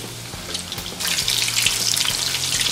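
Chicken pieces frying slowly in oil for chicken chilli dry, a steady broadband sizzle that swells louder partway through, close and continuous with no talking.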